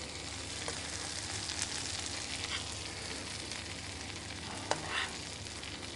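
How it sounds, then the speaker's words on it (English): Hapuku fish being basted with melting butter sizzles steadily in a hot pan, a close continuous frying hiss with a couple of brief sharp spoon clicks near the end. "I sort of baste the fish with it"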